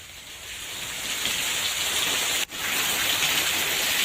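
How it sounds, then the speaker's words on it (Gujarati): Monsoon rain showers falling over villages around Rajula in Gujarat, a loud, constant wash of rain with a brief dropout partway through, no speech. "રાજુલાના રાભડા સહિત આસપાસના ગામમાં વરસાદી ઝાપટા પડ્યા।"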